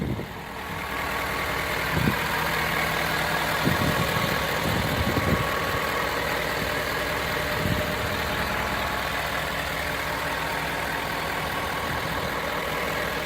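A 2016 Ford F250 XLT SuperCrew with the 6.7 liter Power Stroke turbo diesel idles close by, a steady low rumble with a few brief knocks and clunks early on.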